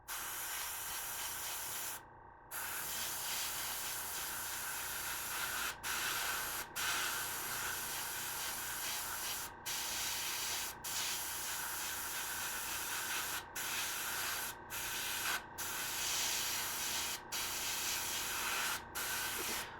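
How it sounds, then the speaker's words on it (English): An airbrush sprays white paint over black onto a custom marble-style base: a close, continuous airy hiss broken by several brief pauses where the trigger is released. "when you apply white over black with the airbrush, you'll get really good coverage"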